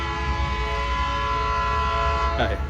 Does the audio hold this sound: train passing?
yes